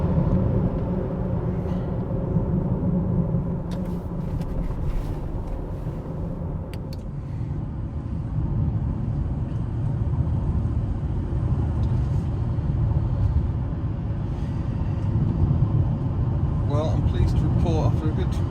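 BMW E38 7 Series saloon on the move, its steady low road rumble and engine drone running continuously at a constant level, with talk over it throughout.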